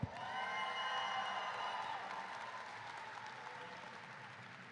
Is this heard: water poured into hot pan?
no